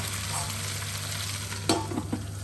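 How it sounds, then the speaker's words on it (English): Spinach sizzles in a pan over high heat for an egg, spinach and tomato dish, a steady frying hiss over a low hum, then a brief clatter of stirring toward the end, with no voices. "I've got this over a reasonably high heat when I put in the spinach because I just want that to wilt down a little"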